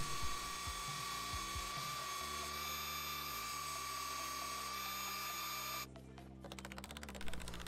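A power sander shapes small wooden wedges for a mallet handle with no dust collection running, a steady high-pitched mechanical whine with shifting grinding tones as the wood is pressed in, ending in a short rattling burst.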